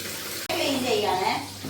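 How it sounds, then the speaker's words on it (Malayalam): Hot boiling water pours in a gushing, bubbling stream, close and moderately loud, following a brief cut at the start. "ചൂട് തിളച്ച വെള്ളം"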